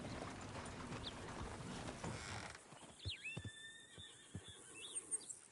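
A horse in Red Dead Redemption 2 lets out a clear, close whinny with rising and falling pitch after a stretch of rustling noise, followed by a few soft thuds.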